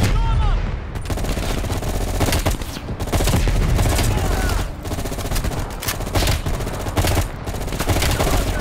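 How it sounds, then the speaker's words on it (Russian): Rapid bursts of gunfire in the video game Call of Duty: Black Ops Cold War crackle loudly in dense volleys, separated by brief pauses, with a busy combat mix underneath. "на звуки выстрелов"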